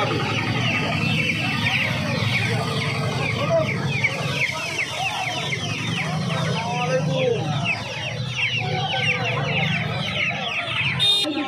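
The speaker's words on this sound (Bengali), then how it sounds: "এখানে প্রচুর দেশি মুরগির বাচ্চা রয়েছে" A crowd of native chicks in a cage at a hen market near Uluberia cheep and cluck nonstop, a dense close chorus of high peeping calls with people talking underneath.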